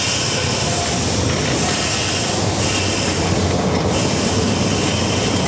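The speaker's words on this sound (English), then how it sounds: "the churning side rods and the clickety-clack over the rails" A steam train with churning side rods rolls past on rails at Hesston, its wheels clattering in a loud, steady clickety-clack close by with no talking.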